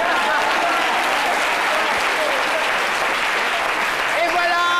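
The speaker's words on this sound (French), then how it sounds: "On la raccompagne donc avec des applaudissements" A French television studio audience applauds on a midday talk show: a dense, steady wash of clapping throughout, with voices faintly present underneath.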